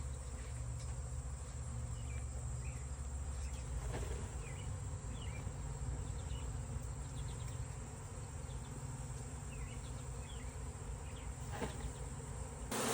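A swarm of honey bees just shaken into a box hums in a dense, steady buzz, with occasional individual bees flying close past, while a few soft knocks sound underneath.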